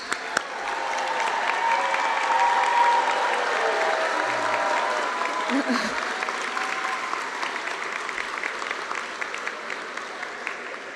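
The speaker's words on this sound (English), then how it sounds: "Let's have another round of applause." An auditorium audience at a medical school white coat ceremony gives a long round of applause, dense and sustained before gradually thinning toward scattered claps, with a few voices and cheers mixed in.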